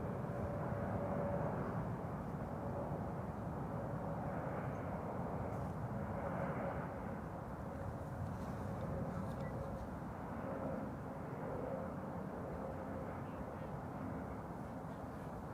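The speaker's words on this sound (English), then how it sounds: "This is KLM flight 1584 arriving from Lisbon in Portugal. A321neo, 2 hours and 23 minutes on the way." A KLM Airbus A321neo airliner arriving from Lisbon at Amsterdam Schiphol gives a steady, fairly distant jet roar that holds at an even, moderate level, heard alone without voices.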